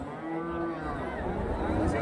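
Cattle at a cow market in Karimangalam, Dharmapuri district, give a low moo amid a busy, noisy market background of crowd murmur.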